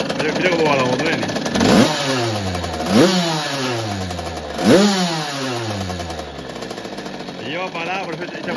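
A Puch Cobra M-82 TT motorcycle engine idles loud and close, then is blipped three times in succession, each rev rising quickly and falling back, before a final lighter rev at the end.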